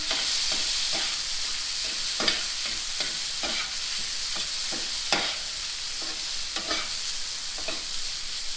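Tofu sizzles steadily in a hot oiled skillet over medium flame, a constant crackling hiss broken by soft scraping and stirring taps.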